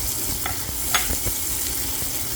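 Garlic and onion fry in margarine with a loud, close sizzle, stirred with scraping and a few clacks of the spoon against the pan, no voices.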